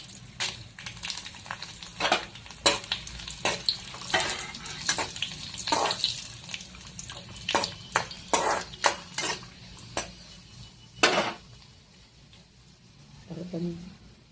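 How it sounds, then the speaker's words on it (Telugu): Dried red chillies frying in a little oil in a pan on a stove, with repeated clattering stirs and scrapes against the metal over a low sizzle, fairly close and with no talk. "ముందుగా అయితే స్టవ్ మీద బాండిల్ పెట్టుకొని కొంచెం ఆయిల్ వేసుకోవాలి. ముందుగా అయితే ఎండుమిర్చి వేయాలి"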